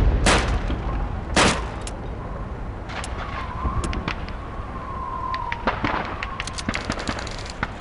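Gunfire at shooting range targets in the World War II game Call of Duty 2, Red Army training: a few sharp, loud shots at the start, then scattered smaller reports over a faint tone.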